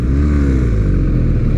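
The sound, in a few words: BMW R1250R motorcycle engine revving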